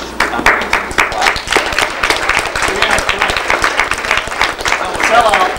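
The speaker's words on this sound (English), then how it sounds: "We just applauded her" An audience at a media symposium group discussion applauds a panelist: dense, close clapping from many hands, sustained evenly for several seconds.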